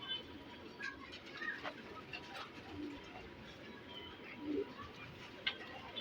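Pigeons coo softly in a loft with white-nosed, blue-eyed show birds, low murmuring calls repeating at a distance under steady background noise and occasional brief chirps.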